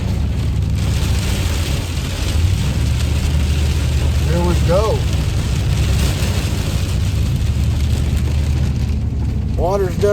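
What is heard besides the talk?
heavy rain falling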